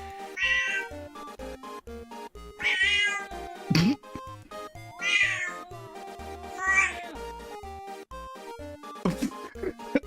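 Several distinct cat meows, near and clear, sound in turn over a musical backing, one rising to a sharper yowl near the middle.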